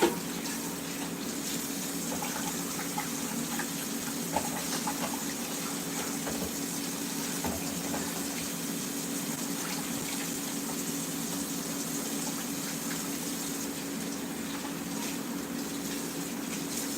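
Hot water pours steadily from a tap in a kitchen, a continuous close rushing hiss with no talk over it.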